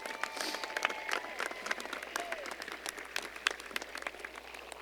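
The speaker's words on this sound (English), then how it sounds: "So a round of applause for the faculty and the staff here at Lawrence High School." Audience applause for faculty and staff at the Lawrence High School 2017 graduation ceremony, a fairly quiet, distant wash of many hands clapping steadily, with a faint voice or two underneath.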